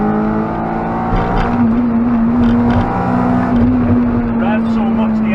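The K-series engine of a Honda Civic Type R EP3 runs at a steady, strong drone close by, holding a fairly constant pitch while a person talks over it.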